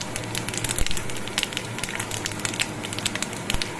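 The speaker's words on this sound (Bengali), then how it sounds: "আমি একটা শুকনো লঙ্কা ফোড়ন দিচ্ছি, আর দেবো কি 5 ফোড়ন" Dry red chilli and five-spice tempering crackling in hot oil, a dense close-up sizzle full of rapid popping crackles that runs steadily throughout.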